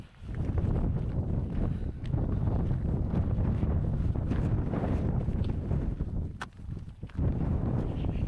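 Strong gusts of wind buffet the microphone on Iceland's volcanic coast, a loud, constant roaring rush with brief dips and swells, no voices present.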